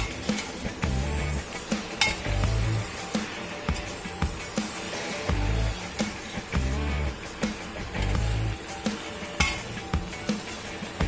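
Beef curry stirred in a pan, a rhythmic run of scraping and knocking strokes over a low sizzle, close and fairly loud, with no talking.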